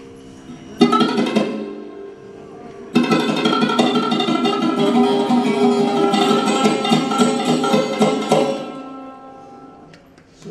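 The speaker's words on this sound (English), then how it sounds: "If I play sarod with fingertip, it will sound like this." Sarod strings plucked and pressed with fingertips rather than fingernails, giving sustained, resonant melodic tones in two phrases after a brief opening note, fairly close and clear with no talking.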